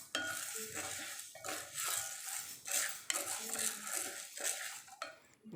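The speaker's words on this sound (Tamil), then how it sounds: "நல்லா உளுந்து நல்லா சவந்து வாசம் வர வரைக்கும் வறுத்திங்கன்னா பொடி நல்லாயிருக்கும்" Urad dal for idli podi is dry-roasted and stirred in a pan, with repeated scraping and clattering of the utensil against metal in uneven strokes and a light sizzle underneath.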